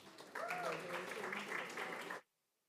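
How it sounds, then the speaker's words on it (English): A board meeting audience breaks into a round of applause honoring a school principal, a dense, moderately distant burst of clapping with a brief voice rising over it, then cutting off abruptly into silence. "Let's give her another round of applause."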